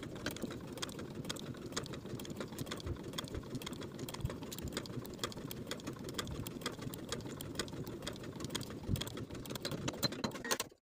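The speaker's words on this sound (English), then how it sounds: "Now I'm going to sew along my transferred stitching lines, back stitching at both points to secure." A sewing machine runs continuously along stitching lines on a shirt sleeve placket, a quiet, even mechanical whir lasting the whole stretch with no talk.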